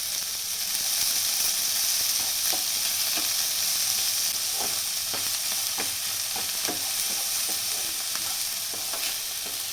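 Ginger, garlic and coriander paste fries for egg masala in a pan, giving a steady bright sizzle with the repeated scrape and tap of a spoon stirring, close and without talk.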